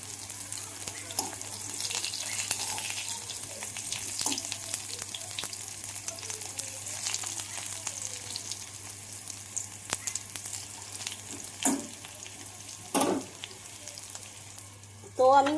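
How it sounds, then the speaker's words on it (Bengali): Sliced bitter gourd fries in a pan with a steady, close hiss of oil and a few louder scrapes and clinks from stirring near the end. "দেখুন আমার করলাটা ভাজা ভাজা হয়ে এসছে।"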